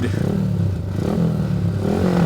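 Racing motorcycles on the starting grid at a circuit, engines revving and roaring together in a loud, close, rough blur of throttle blips and clattering mechanical noise.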